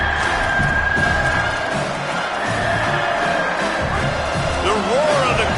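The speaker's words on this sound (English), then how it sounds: "The roar of the crowd trying to fuel this defense to keep them pinned in their own end." A stadium crowd roars at a Kentucky football game, a loud sustained wall of cheering and whoops under a commentator's voice.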